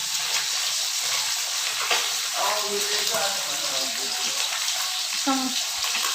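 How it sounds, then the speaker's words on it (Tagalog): Food sizzles and fries steadily in a pan in a home kitchen, a constant hiss with brief bursts of speech over it. "Ano na nangyayari sa prito ko?"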